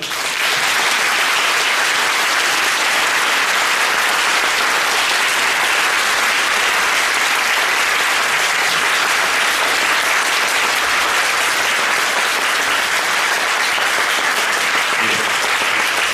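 Sustained, loud audience applause fills a theatre as the cast of the stage play Perfect Strangers is called up for a curtain-call greeting, continuous and dense throughout without a break.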